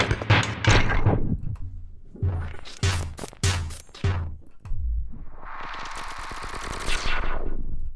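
A string of randomized percussive bursts from the Twisted Tools S-Layer instrument: sharp cracking hits and rattling thuds in uneven rhythm, then a sustained hissing, noisy swell filling the last few seconds.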